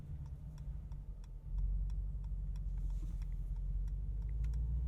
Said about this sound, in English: Turn signal sound.